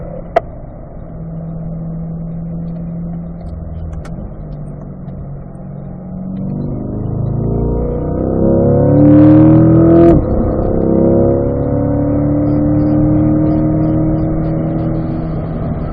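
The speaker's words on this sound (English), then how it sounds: "Let those revs come out, then shift back up to fourth." A race car on a track comes up from a low idle-like drone into a loud climbing engine rev, with a sharp gear shift around the middle. It then settles into a strong sustained roar in the higher gear, close and loud.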